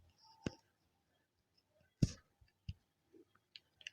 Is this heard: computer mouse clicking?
yes